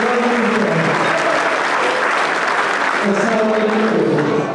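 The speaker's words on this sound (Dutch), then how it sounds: "heel graag een heel groot welverdiend applaus voor deze fantastische schutter van Schutterij en Ilan Heijzen" A crowd at a marksmen's guild celebration for the St Nicolaas schutterij in Heythuysen gives loud, sustained applause for a shooter, with voices calling out over the continuous clapping.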